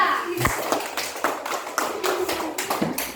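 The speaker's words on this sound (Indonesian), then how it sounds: "beri tepuk tangan untuk kelompok 2" A primary school class applauds a student group, with rapid overlapping claps of fairly close hands in an uneven patter that runs throughout at moderate loudness.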